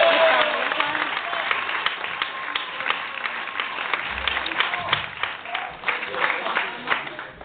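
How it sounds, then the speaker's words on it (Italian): An audience at an Italian concert applauds, steady dense clapping with a few shouts, lasting several seconds and fading slightly toward the end. "Un applauso a Pippo per favore"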